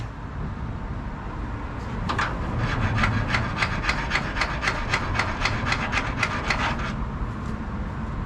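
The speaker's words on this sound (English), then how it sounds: "The starter didn't sound good to begin with." A rapid, rhythmic grinding rasp from the broken starter motor of a 1968 Chevy Suburban cranking, about five seconds of harsh repeated scraping over a steady engine-bay rumble.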